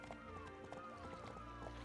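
Horse hooves clip-clopping in a steady rhythm while riding in My Time at Portia, fairly quiet under game music with tonal melodic lines on top.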